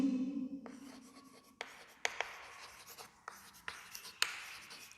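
A teacher writing chemistry terms on a board, with sharp tapping strokes and short scratchy scrapes of the marker or chalk, close and quiet, following a few moments of faint talk.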